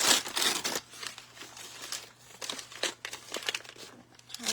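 Leftover Christmas wrapping paper crumples and crinkles close up in repeated bursts of rustling, loud at first and then continuing in uneven handfuls.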